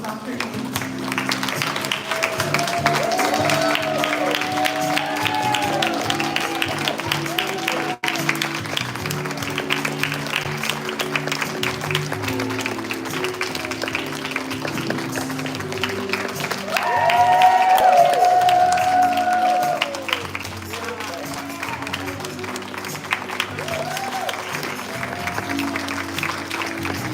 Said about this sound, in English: If we can please stand and give a round of applause and hand clap for Ms. Sanjay Oz as Dr. Evans.